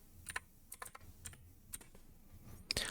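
Keys clack on a computer keyboard during a micro:bit project tutorial, with a handful of separate, fairly close keystrokes spaced irregularly over quiet background hum.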